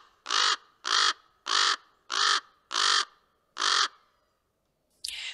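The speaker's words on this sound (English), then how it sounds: "this is the common raven" A recorded common raven call is played back: six loud, harsh croaks in an even rhythm, followed by a pause and a brief, abrupt noise at the end.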